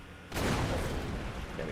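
A grenade explodes in a video game, a sudden deep boom that breaks into a rumbling, crackling roar and slowly fades, heard at moderate loudness.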